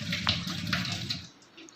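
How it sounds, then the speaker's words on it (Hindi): Cold tap water runs over boiled spaghetti in a strainer for a short rinse, a steady splashing hiss that cuts off near the end. "एक दफ़ा इसके ऊपर से हम ठंडा पानी गुजार देंगे ताकि कि आपस में चिपके नहीं"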